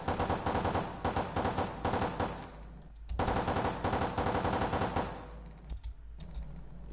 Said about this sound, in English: now I'm gonna find where I go ham with the bullets.